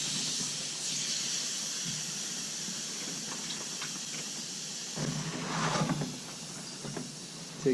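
A steady, close hiss of air escaping from a bicycle tire valve continues for several seconds, then a few rustles and handling knocks follow as the wheel is moved. No speech.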